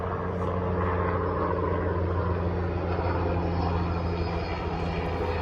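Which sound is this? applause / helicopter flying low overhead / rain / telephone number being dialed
helicopter flying low overhead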